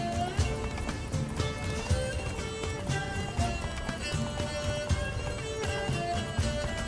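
Roach, Geralt's horse in The Witcher 3, gallops with quick, rhythmic hoofbeats that run steadily under tonal game music at a moderate, even level throughout.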